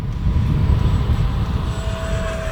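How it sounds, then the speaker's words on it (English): An E-flite Viper 70mm electric ducted-fan RC jet on a 6S battery making a full throttle pass, a loud steady whooshing roar with a thin whine, sustained and close throughout. "Here we go, full throttle pass."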